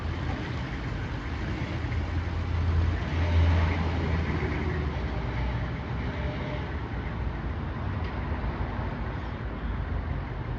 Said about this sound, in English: There goes the school bus ice cream.